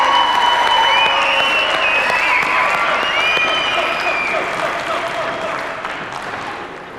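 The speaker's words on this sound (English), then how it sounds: "Round of applause, please." A lecture audience claps at length, a dense sustained wash of applause that stays strong and then slowly tapers off toward the end.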